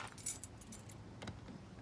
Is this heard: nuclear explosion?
no